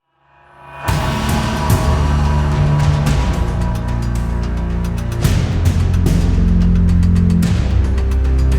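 A Jeep Wrangler rolls into an indoor shop bay, its engine rising from silence into a loud, steady idle and low rumble that carries on close by, with no voices over it.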